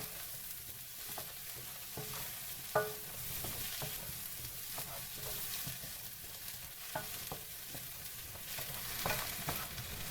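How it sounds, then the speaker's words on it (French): Carrots and peppers fry in a pan while being stirred, a steady soft sizzle broken by scattered scraping taps of the spoon, quiet and close with no talking. "on va rajouter carottes et poivrons. Toujours en remuant, bien sûr."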